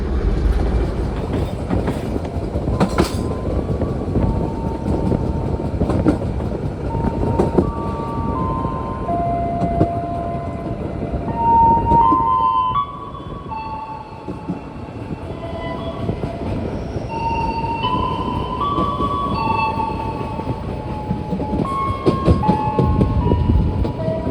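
Inside the moving KA Jayakarta Premium passenger train, a constant rolling rumble carries rhythmic wheel clacks and scattered high tonal squeals, steady and close throughout.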